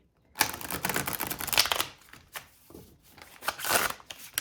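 Stiff-textured cards from a 100-card oracle deck are riffle-shuffled close up in two quick bursts, a crisp fluttering rattle separated by soft handling taps, with no talking.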